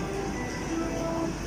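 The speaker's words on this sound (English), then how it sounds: "This is the tour train here" A sightseeing tour train in Fes, Morocco, gives a steady, continuous rumble with faint rattling, heard up close without any voices.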